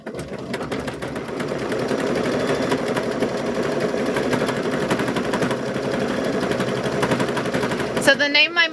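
Brother Luminaire 2 sewing machine stitching at a steady fast clatter, a continuous loud mechanical rattle that runs for most of the clip before stopping near the end, with a faint voice underneath.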